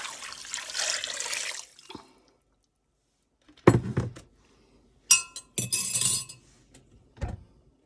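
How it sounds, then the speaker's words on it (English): Beef broth is poured into a pan in a few splashy bursts, with glassy clinks and clunks of a container between pours, close and fairly loud, while Swedish meatballs are being made. "Then we're going to add in 2 cups of beef broth."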